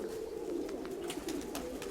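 Pigeons coo continuously at close range in a loft, a low rolling warble with a few brighter chirps over it, with no voices.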